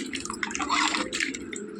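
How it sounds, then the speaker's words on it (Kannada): Water is poured into a simmering gobi (cauliflower) curry, giving a short, close, splashy trickle with bright spattering over a low bubbling base. "ಇವಾಗ ಸ್ವಲ್ಪ ನೀರು ಹಾಕ್ಕೊಳ್ತಿದ್ದೇನೆ"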